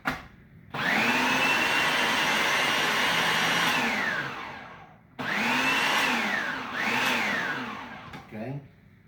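Tomatoes and vegetables for gazpacho are pulsed in a blender: a loud, close motor whine spins up, holds for a few seconds, then stops, followed by a second longer burst with a brief dip before cutting off.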